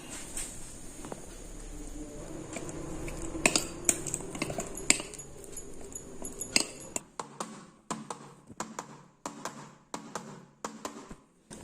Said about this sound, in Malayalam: അപ്പോൾ അതിൻ്റെ എയർ ബബിൾസ് ഒക്കെ പോകാൻ വേണ്ടിയിട്ടാണ് നമ്മൾ ഇങ്ങനെ ഒന്ന് ടാപ്പ് ചെയ്ത് കൊടുക്കുന്നത്